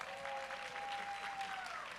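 Audience applause for silver-medal powerlifter Leanne Lee at a college nationals powerlifting meet, a fairly faint, steady patter of clapping heard from a distance, with a thin sustained tone running underneath.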